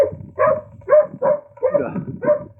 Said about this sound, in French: Paradis des chiens ici, hein. Il y en a dans chaque maison, ça gueule.